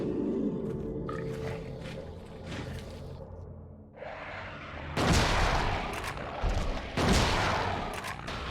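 Shotgun blasts in the horror game Silent Hill 2, two loud broadband bursts a couple of seconds apart with a slow gap between shots, over a low droning game ambience.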